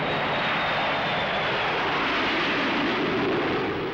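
A Dassault Mirage F1 fighter jet taking off from Solenzara produces a loud, steady roar with a rising whine, continuous and heavy from start to finish.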